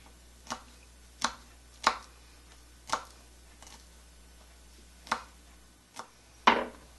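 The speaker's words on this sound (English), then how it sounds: "So just finely mince the garlic and add it to your onions in the pan." A knife chops garlic finely on a board in a home kitchen, seven crisp, separate, close knocks at an uneven pace with quiet pauses between them.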